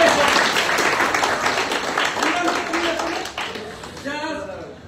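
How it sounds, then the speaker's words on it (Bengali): An audience in a coaching-centre classroom claps loudly in a dense burst that gradually thins and fades, and a voice begins speaking as it dies away. "জোরে হাত তালি"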